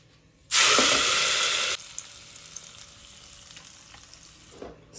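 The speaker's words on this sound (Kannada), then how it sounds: "ಒಗ್ಗರಣೆ ರೆಡಿ ಆಯ್ತು. ಈಗ ಇದನ್ನೀಗ ಪಲ್ಯಕ್ಕೆ ಹಾಕುವ." Coconut oil tempering sizzles loudly as it is poured into a jackfruit seed palya, a sudden burst of hissing for about a second that then settles into a faint crackle.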